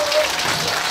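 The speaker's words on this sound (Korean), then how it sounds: "그래서 힘내라고 박수 한번 주실까요?" Dense, steady applause from a festival audience at an outdoor folk performance in Jinju, a broad hiss of many hands clapping at once, loud and close throughout the short burst.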